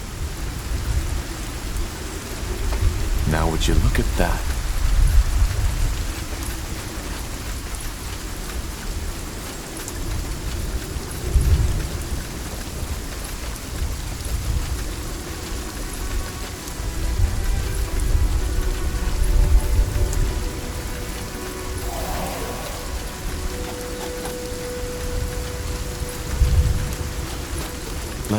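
Steady storm rain hisses throughout a deserted lakeside area in SpellForce 3, with low rumbling beneath and a voice speaking briefly over the downpour.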